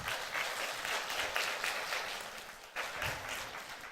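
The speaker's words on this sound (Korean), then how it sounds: "한번 박수 한번 환영하겠습니다." A church congregation claps in welcome during a Sunday service, a soft but dense sustained applause from many people in the hall, swelling briefly again near the end.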